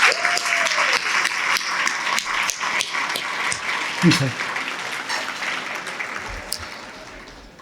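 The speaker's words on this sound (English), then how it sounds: "Could I get a round of applause by the people for the people?" Audience applause at an alumni brunch, a sustained burst of many hands clapping close by that tapers off over several seconds, with a brief spoken word in the middle.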